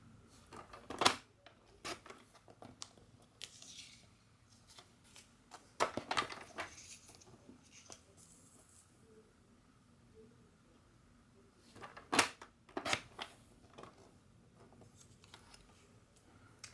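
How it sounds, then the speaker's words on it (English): A paper trimmer slices cardstock strips for a Stampin' Up! gift box, giving a few sharp, close cutting swipes in separate bursts with quiet handling sounds between them. "I'm going to cut these down to 12 centimeters, and I'm going to cut off the paler end."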